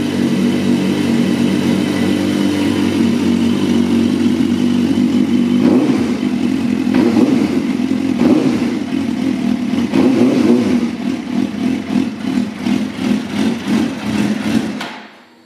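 A 2005 Suzuki GSX-R 600 sport bike, running low on fuel, idles loud and close, then is blipped through a series of sharp throttle revs that rise and fall before the engine cuts out abruptly.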